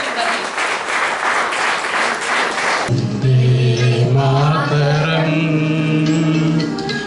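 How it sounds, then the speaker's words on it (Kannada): A crowd at a Republic Day celebration breaks into applause, a dense burst of clapping that quickly gives way to a sustained sung note and voices. "ಜೋರಾದ ಚಪ್ಪಾಳೆ."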